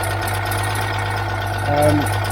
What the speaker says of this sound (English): just here where my finger is a small hole in this silencer. So it's definitely got a leak